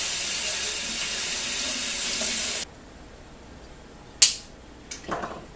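Corn ears rinsed under a running kitchen tap: a steady, loud gush of water for about two and a half seconds, then it shuts off, followed by a few sharp knocks and rustles of husks.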